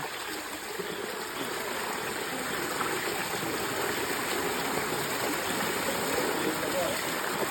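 Water runs downhill through an irrigation channel on sloped ground in a forest camp, a steady, close, continuous rushing trickle with no break.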